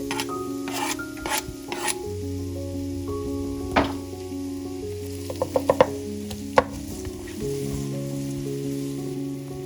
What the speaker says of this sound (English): Add our onions.